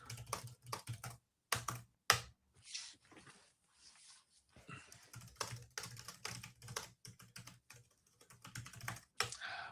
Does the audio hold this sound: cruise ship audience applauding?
no